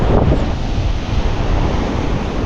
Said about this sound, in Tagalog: Nagkalaki ulit ng alon.